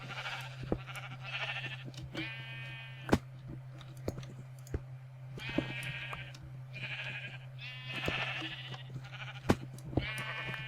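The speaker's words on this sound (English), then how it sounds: "Oh, hey, Mr. Sheep. Get out of my face." Sheep in the Minecraft video game bleat in several short bursts, repeated and fairly close, with sharp clicking sounds scattered between them over a steady low hum.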